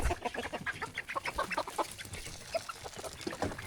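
Free-range farm chickens cluck continuously nearby, a busy overlapping chatter of short clucks and calls from several birds with no talking.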